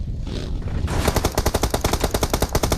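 Rapid automatic gunfire from PUBG Mobile erupts after a brief quieter moment and continues as a loud, evenly spaced burst of sharp shots, with no talking over it.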